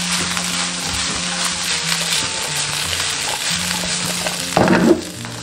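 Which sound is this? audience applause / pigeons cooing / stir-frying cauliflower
stir-frying cauliflower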